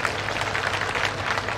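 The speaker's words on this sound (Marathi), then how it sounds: "एकदा टाळ्या वाजवा" Audience at a festival event in Akole clapping: dense, even applause from a crowd, steady and fairly loud for a short stretch with no break.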